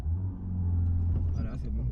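A car's engine rumbles and rises in pitch as it accelerates during a driving lesson, with an instructor's voice talking over it throughout.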